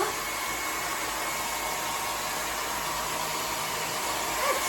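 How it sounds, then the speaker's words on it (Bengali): A hair dryer blows a steady, loud, close rushing whir for almost five seconds over hair softened by a hair spa treatment, with no talking. "দেখো এখন ড্রায়ার মেরে দিচ্ছি অল্প।"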